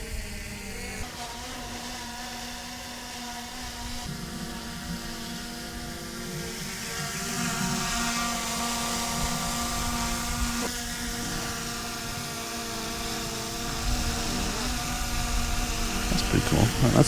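A DJI Mini 4 Pro drone flying along a runway on its maiden flight gives a steady, fairly faint buzzing whine that keeps a constant pitch and swells slightly in places, with no talking.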